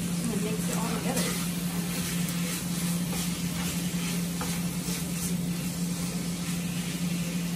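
Very lean ground meat and garlic frying in added oil, a dense steady sizzle with a constant low hum underneath and faint stirring throughout.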